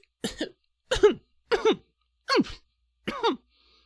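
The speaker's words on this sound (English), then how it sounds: "takes a very short swig and immediately sneezes and coughs" A person coughs five times in a row, each a sharp two-part burst with a brief pause between, close and clear.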